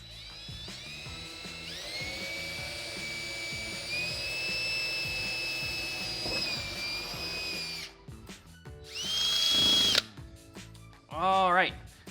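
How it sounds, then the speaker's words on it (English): Power drill with a 3/16 inch extended bit boring holes through a bathtub, a long sustained high whine followed by shorter bursts, with the motor pitch rising and falling as it spins up and down. "I'm just going to start moving around to each one of my marked locations and drill the hole all the way through."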